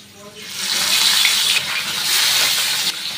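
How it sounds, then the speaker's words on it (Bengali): Small live chara pona fish sizzle and crackle as they go into hot oil in a frying pan, a steady broadband hiss that swells and holds close up without any talk. "আমি এবার এক এক করে মাছগুলো দিয়ে দেবো এর মধ্যে।"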